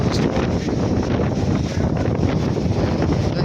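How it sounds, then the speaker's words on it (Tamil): Strong wind roars steadily across a misty hilltop, buffeting the microphone in a loud, continuous rush with no letup. "இது ஃபுல்லாக அந்த காற்று பயங்கரமாக அடிக்குது"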